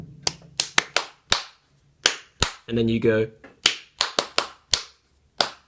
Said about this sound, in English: They clapped their hands in a particular rhythm pattern